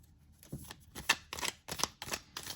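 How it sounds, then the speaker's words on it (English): Small crystal oracle cards are shuffled in quick, crisp bursts of riffling and flicking, several separate rounds close to the listener, with no talking. "I'm just gonna shuffle and pull one crystal"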